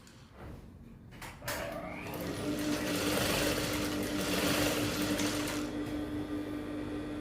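A sewing machine stitches a fitted pencil skirt in a steady, fast whirring run after a few soft handling clicks at the start, close and continuous with no talking.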